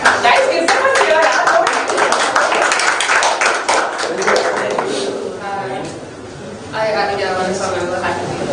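A workshop crowd claps for a team presenting their app, a dense burst of close applause that fades into scattered claps and cheers, with voices talking over the end.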